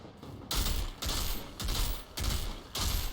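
Assault rifle fire with bladed rounds in the video game Outriders, in five sharp automatic bursts spaced about half a second apart, loud and close with no talk.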